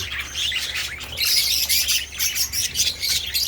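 Pet parakeets in a homemade flight cage give off a dense, continuous chorus of high chirps and squawks at close range, with no talking.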